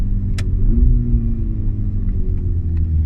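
A Volkswagen Mk6 GTI exhaust rumbling while driving, heard from inside the car as a steady low engine drone that shifts pitch slightly as it pulls, with faint clicks over it and no talk.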